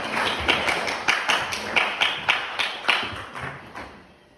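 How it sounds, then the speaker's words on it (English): Sparse, slightly irregular hand claps from an audience at a poetry reading launch, about a dozen distinct claps spread over a few seconds, moderately close and fading at the end, with no talk. "Would you please give Anton Yakovlev a round of applause?"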